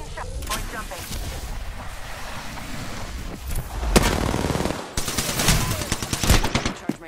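Apex Legends gunfight with rapid bursts of automatic gunfire and heavy impacts, loud and close, with sharp cracks and a dense volley near the end, a voice speaking at times underneath.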